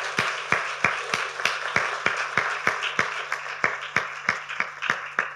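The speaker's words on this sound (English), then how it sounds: "Yes, we can clap for them." A church congregation claps for the fathers in a steady, even rhythm of sharp claps that continues throughout over a faint hum.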